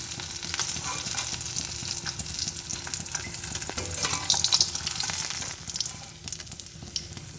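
Fish frying in hot oil in a home kitchen pan, a constant crackling sizzle with sharp spits and pops and occasional stirring clatter, close and fairly loud, no one talking.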